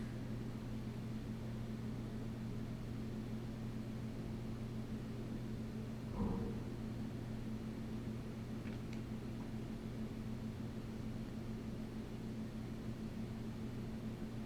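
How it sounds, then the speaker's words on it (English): Pink noise test signal played through a car audio speaker during an RTA measurement at 5 volts: a steady, even broadband hiss holds throughout with a low hum underneath and one brief knock near the middle. "We're going to measure a pink noise"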